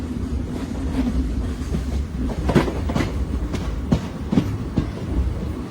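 A special passenger train from Kakinada to Mysore runs along the rails, heard from on board with a steady rumble and a series of sharp clickety-clack wheel beats over rail joints, fairly close and moderately loud.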